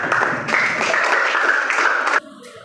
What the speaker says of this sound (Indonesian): kita kasih aplaus dulu untuk kelompok 8